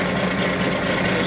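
A truck engine that needs new injectors idles close and loud, a dense, steady low rumble with no break.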